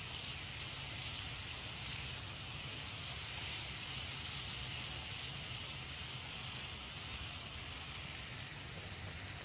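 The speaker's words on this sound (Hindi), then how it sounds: "ये इसका मसाला जो है वो तैयार हो रहा है। बस इसको इतना हमने भूनना है कि हमारा मसाला जो है वो अच्छे से भुन जाए।" Spiced potato masala roasting in a pan gives off a steady, close sizzle and hiss that holds evenly throughout with no talking.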